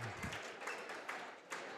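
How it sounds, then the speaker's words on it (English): Crowd applause for a high school basketball player at a Lander Valley vs Powell game, a steady wash of clapping from the gym stands with a few sharper bursts, fairly faint and held at an even level throughout. "He gets a nice round of applause"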